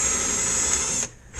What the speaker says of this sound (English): We'll see if this fat old drill can fit in there